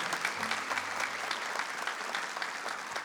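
A church congregation claps steadily at a Catholic Mass, dense broadband applause filling the space at an even level for a few seconds, with a brief low hum beneath.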